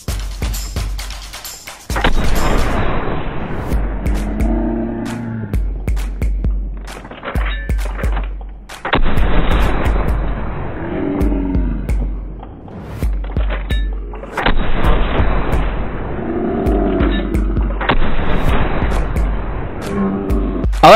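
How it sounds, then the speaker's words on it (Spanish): Evans Repeater rifle fired in Red Dead Redemption 2 Online: a few loud, sharp broadband shots spaced several seconds apart, with softer game sounds and faint voice-like tones in between. "Vamos a pasar a hacer la prueba con la primera arma de repetición, que es la Evans de repetición."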